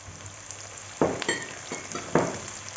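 Two medium chopped onions sauté in hot oil with nigella seeds in a pan for chicken keema karahi, a steady close sizzle with a few louder hissing bursts as they are stirred.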